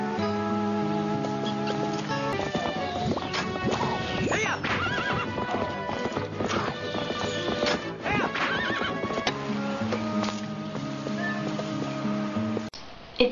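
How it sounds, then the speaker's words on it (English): Epona, the horse in the Wii game Legend of Zelda Twilight Princess, whinnies several times in rising, warbling calls over steady clip-clopping hooves and layered game music, loud and continuous throughout. "She feels like a horse now. She feels like a huge horse."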